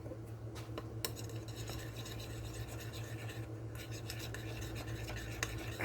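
Two fat crushed garlic cloves being mixed, giving a steady soft rasping and scraping with a few sharper clicks over a constant low background hum.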